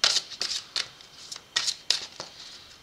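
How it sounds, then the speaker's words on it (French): A deck of cards being shuffled and cut, giving a series of crisp riffling bursts and short slaps at an uneven rhythm, close and fairly quiet. "je mélange mon jeu et on va aller faire une coupe."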